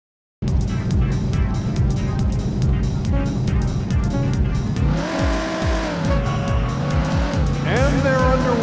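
Race car engines roar together at the start of a race in the Sega Saturn video game Daytona USA Circuit Edition, a loud continuous droning whine that rises in pitch as the cars accelerate, with tire squeal near the end.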